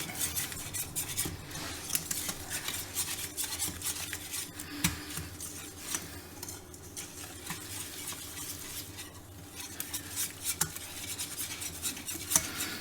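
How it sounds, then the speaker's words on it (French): A spoon stirs a foamy white roux of butter and flour in a pan, giving a soft, continuous scraping and clinking with light sizzling beneath, fairly quiet and close, with no voices. "On mélange, ça fait un roux blanc, c'est mousseux."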